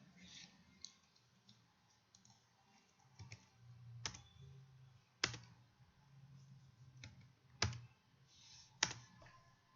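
Typing on a computer keyboard while entering Excel data, quiet scattered clicks with several sharper isolated key strikes, close and alone.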